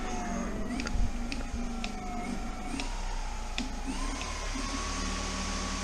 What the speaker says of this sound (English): Okay, so that's the rear motor.